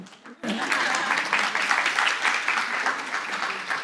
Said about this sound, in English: She leaves for the applause.